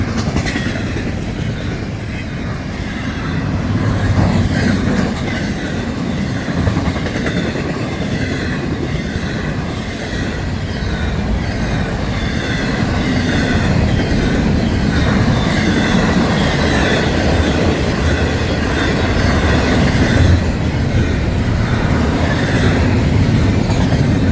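FEC Railway freight train hauling spine cars loaded with trailers rolls steadily past, a continuous loud rumble of wheels and cars with faint clickety-clack and occasional wheel squeal throughout, no voices.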